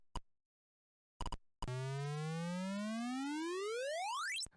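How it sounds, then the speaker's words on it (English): An Atari POKEY sound chip gives a few short blips, then a sustained buzzy square-wave tone that steadily glides upward in pitch from C3 until it cuts off. "The standard square wave would go from C3 upwards."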